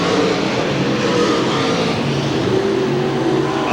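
Stock cars in the 1993 Winston 50 at Hamilton County Speedway, a loud, continuous roar of engines racing on the track with no break and no talk.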